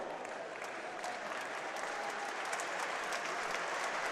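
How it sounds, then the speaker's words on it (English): Steady applause from a crowd during a medal ceremony at a youth world boxing championship finals in Yerevan, 2012, sustained and even throughout without a break, moderately distant and filling the hall. "Scott Forrest steps up, gets a good round of applause from the crowd"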